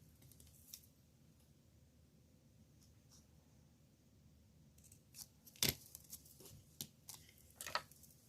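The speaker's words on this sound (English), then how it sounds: "I just cut with my scissors and cut straight across" Scissors snip through cardstock in a straight cut while a Halloween paper craft is made, with a few crisp, faint cuts spread over a quiet background.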